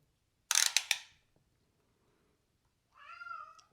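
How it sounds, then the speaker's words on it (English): A cat meows twice: a short cluster of bright, quick cries, a pause, then a longer, drawn-out meow with a rising-falling tone, fairly close. "I apologize for the meowing in the background."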